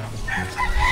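A rooster crows in a short, rough burst at moderate distance, over faint background noise.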